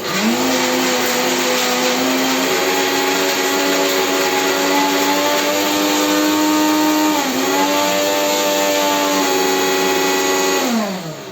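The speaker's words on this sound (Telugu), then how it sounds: "మనం తగినంత ఉప్పు కూడా వేసేసుకుని మంచిగా మిక్సీ పట్టేసుకోవాలి" A mixer grinder whirs loudly and continuously while blending fenugreek-leaf chutney, its motor pitch dipping briefly midway before steadying again, then cutting off at the end.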